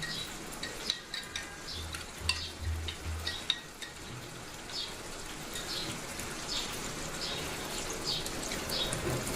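Chilli chicken is stirred in a pan after a cornflour mixture goes in. A spatula scrapes and taps now and then over a steady soft sizzle that carries on throughout.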